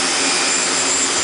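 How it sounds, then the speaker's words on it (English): A simple box fan with a filter taped to it runs as an exhaust fan, giving a steady, close, broadband whoosh of moving air that holds constant throughout with no voices. "Just a simple box fan with a filter tape to it."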